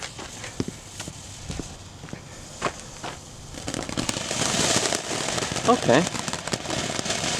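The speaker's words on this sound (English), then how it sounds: "we have another Jade Flower fountain, but this time by Boomer Fireworks." A Jade Flower fountain firework by Boomer Fireworks goes off outdoors. Scattered pops and crackles come first, and then a louder, continuous spraying hiss with crackling builds up. A voice speaks briefly near the start.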